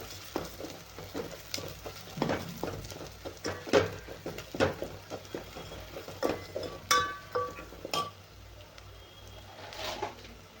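Spices with turmeric sautéing and being stirred in a pan, quiet sizzling under a string of close scrapes and clinks of a spoon against the pan, irregular and fairly soft.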